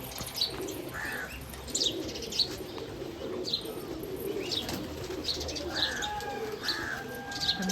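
Prized pigeons in a loft coo softly and repeatedly at a moderate distance, low rolling calls over a dense bed of chirps, rustling and a brief flutter of wings, with no speech.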